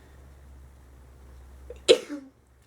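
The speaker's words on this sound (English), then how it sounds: "I need to sneeze." A single sharp sneeze bursts out close by after a few seconds of quiet room hum, followed by a short breathy tail.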